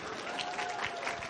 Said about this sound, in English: Well, we can still applaud.